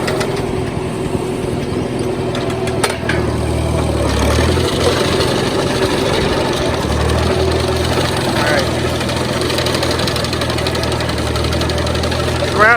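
A 1956 Farmall 200 tractor engine runs steadily with a low, knocking chug while cutting hay with a McCormick-Deering sickle mower, loud and close throughout, with a few sharp clicks early on.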